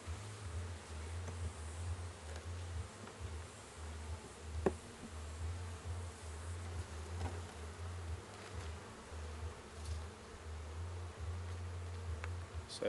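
A dense, steady hum of many bees swarming around an open backyard beehive during an inspection, close and continuous, with a lower droning tone and occasional light knocks or rustles.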